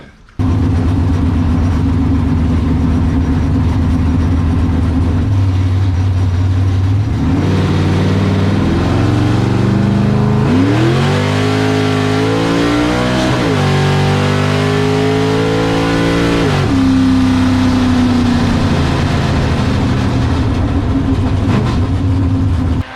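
A 1970 Monte Carlo bracket car idles with a loud, deep rumble close by, then revs and accelerates hard down the street, the engine pitch climbing through several gears before easing back to a steady drone.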